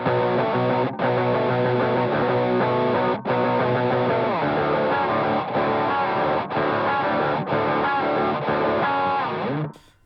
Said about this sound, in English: just first of all, like showing off some of that distortion